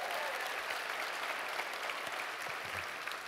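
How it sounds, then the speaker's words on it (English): A round of applause from a gathered crowd for a woman's birthday, continuous clapping at moderate level, with faint voices mixed underneath. "So give her a round of applause."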